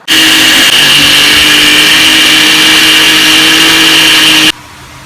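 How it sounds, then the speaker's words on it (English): A blender grinds roasted oats into powder, a loud steady whir that runs for about four and a half seconds and then stops abruptly, with no talking. "So I'm gonna like blend it in a blender now."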